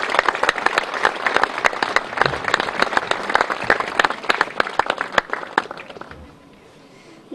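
An audience at a municipal celebration in Gorišnica bursts into sustained, dense applause, loud and close, holding steady for several seconds before thinning out and fading near the end.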